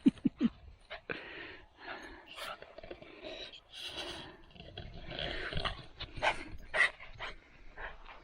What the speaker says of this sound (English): Have I got the only dog in the world that will actually play chase around the caravan?